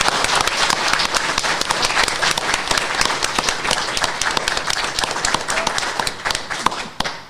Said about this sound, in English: let's have a round of applause for the Call family